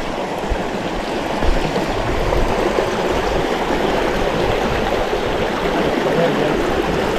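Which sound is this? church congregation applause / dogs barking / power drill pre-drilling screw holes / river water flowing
river water flowing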